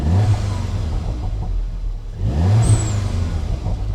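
An Audi TTS engine revs twice up close, each rise falling back between bursts, with a brief high whistle after the second rev.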